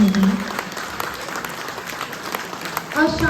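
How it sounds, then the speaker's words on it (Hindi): Enthusiastic applause from the audience at a Hindi poetry gathering (kavi sammelan) in Ethiopia, a sustained crackle of many hands clapping under a speaking voice, fading slightly before a brief swell near the end. "जोरदार तालियां हो गई।"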